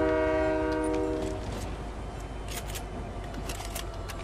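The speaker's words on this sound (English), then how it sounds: "That's the train." Train in Fortnite Chapter 5 sounds a loud sustained horn for over a second, then rumbles and clatters past steadily with no talk.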